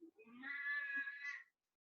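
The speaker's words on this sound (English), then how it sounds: "I'm looking down at my 19-year-old kitty" A very old 19-year-old pet cat gives one drawn-out, wavering meow close by, quiet and rising slightly at the end, followed by silence.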